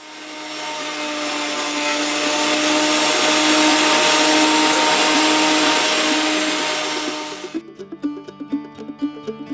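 A thickness planer flattens a hand-milled log board, a loud, steady whine with a tonal hum that builds and holds for several seconds, then cuts off into a run of knocks and clatters.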